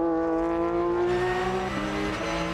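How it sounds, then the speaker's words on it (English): A race car engine with a sequential gearbox howls at high revs during the 2013 Goodwood Hill Climb, with quick sequential gear shifts cutting the tone near the end; close and loud, no voices. "Sequential gearbox, wonderful sound."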